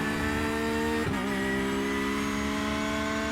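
A Porsche GT3R in iRacing at Brands Hatch holds a loud, steady engine drone with a brief dip in pitch around the one-second mark, then a smooth rise as it accelerates.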